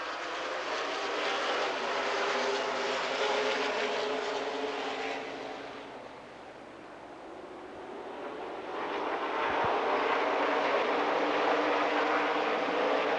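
A pack of NASCAR race cars roars down the front chute at Madison Speedway in Wisconsin. The engines swell, fade away for a moment and then build again as more cars pass, loud and sustained.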